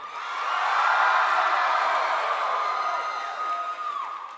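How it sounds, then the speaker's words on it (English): A convention panel audience at PAX West cheering and whooping, a sustained roar of many voices that swells quickly, holds loud for several seconds, then slowly eases off. "just keep asking questions and have everyone cheer"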